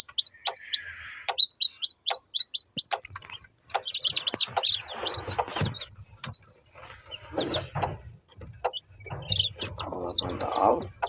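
Newly hatched incubator chicks peep in quick high bursts at first, then the chirping mixes with clucking, rustling and handling noises close by, growing busier and more cluttered toward the end.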